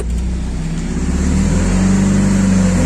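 A Mitsubishi Eclipse 2G engine idles loud and close, then its steady drone rises slightly as the car is put in drive and the wheels begin to spin.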